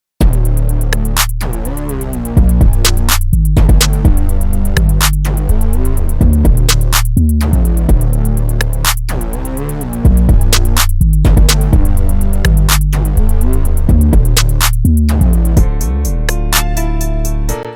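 A hip-hop beat plays loud and alone, a deep edited 808 bass line under crisp repeating percussive hits in a steady looping rhythm.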